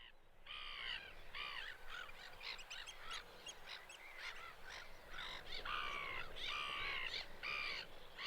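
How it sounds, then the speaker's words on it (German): Herring gulls call repeatedly on an island coast, a run of loud, harsh overlapping cries in quick bursts, fairly close and without speech. "De zilvermeeuw."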